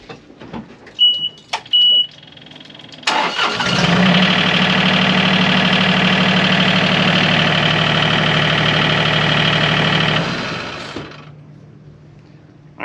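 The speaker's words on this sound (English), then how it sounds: "this is the John Deere 1585 startup" A John Deere 1585 diesel engine cranks and starts. A steady loud rumble holds for several seconds, then settles and fades toward idle.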